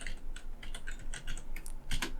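A sheet name is typed on a computer keyboard in a quick, steady run of close key clicks, heard alone over a faint low hum.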